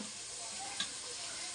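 Ingredients for chicken dum biryani sauté in hot oil with a steady, even sizzle and one small pop midway. No talk is heard.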